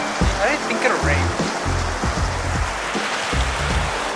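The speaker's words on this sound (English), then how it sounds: "the rain just was too much and it ended up being too cold" Cold rain pours steadily at a campsite in Japan, a dense hiss of drops under loud, close conversation.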